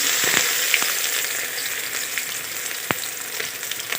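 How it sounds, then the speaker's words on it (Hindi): Onion and garlic greens fry in hot oil in a home kitchen, a steady close sizzle with scattered sharp pops and crackles, no voices over it. "तेल भी हमारा अच्छे से गर्म हो गया, तो उसमें प्याज और लहसुन की पत्ती डाल दी है"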